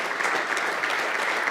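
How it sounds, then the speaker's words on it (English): Audience clapping for an organizing team at an investment talk, a dense steady burst of many hands, sustained and even with no voices over it. "Yeah, you just keep applauding my team."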